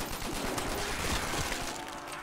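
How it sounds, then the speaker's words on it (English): Rapid gunfire from a gun in a Rocket Base map of a shooter video game, a dense continuous rattle of shots filling the whole stretch at steady loudness. "I still don't like the sound of this gun."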